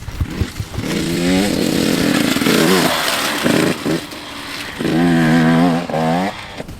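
Motocross bike ridden on a dirt track, its engine buzzing loud and near with repeated revs and gear changes, rising and falling in pitch as the rider passes through, no talking.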